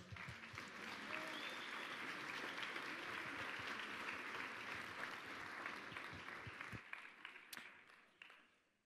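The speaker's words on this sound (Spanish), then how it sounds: "Démosle un fuerte aplauso a Hernán." A church or school audience applauds Hernán with sustained, dense clapping that holds steady for most of the stretch, then thins and fades out near the end.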